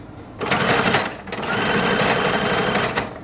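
A sewing machine topstitches a toddler's hat in two bursts of rapid, steady stitching with a brief pause between, loud and close, no voices.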